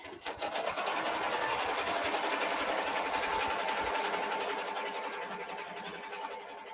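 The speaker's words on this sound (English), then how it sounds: "now I can hit start again, and it's going to do that decorative stitch." An embroidery machine stitches a decorative pattern onto a towel with a steady, fast, continuous mechanical whirring and rapid clatter that runs close and loud throughout, with no talk over it.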